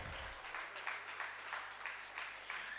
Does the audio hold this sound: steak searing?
no